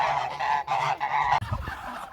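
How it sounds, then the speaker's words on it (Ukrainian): Ordinary domestic geese honk nearby in a quick string of four or five loud, nasal calls, followed by a lower, rougher honk, alone with no talking. "звичайні домашні гуси"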